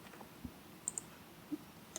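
A handful of sparse, light clicks of a computer keyboard being typed on, quiet and close, spaced irregularly with no talking.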